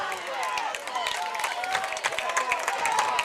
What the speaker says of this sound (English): As you hear the applause from the Mosley sideline.